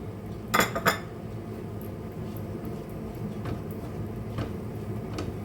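Small pieces of brown bread are tipped into a cooking pan for a vegetable oats cutlet, with two quick metallic clinks of a utensil against the pan. A quiet kitchen background follows, with a few faint ticks.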